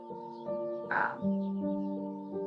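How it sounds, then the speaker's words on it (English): Bird ambience in the room-decorating game MakeRoom: a crow gives a clear caw over a soft, steady bed of layered tonal background sound, with no speech. "Okay, so like bird noises."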